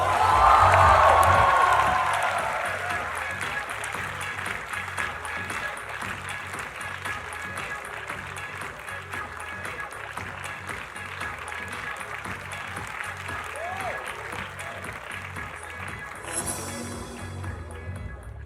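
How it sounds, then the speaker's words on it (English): An audience at an NM College event applauds to welcome Jaya Bachchan on stage: a burst of loud clapping that quickly eases into a long, steady spatter of claps and crowd murmur. "Ladies and gentlemen, with a huge round of applause, please welcome on stage Mrs. Jaya Bachchan."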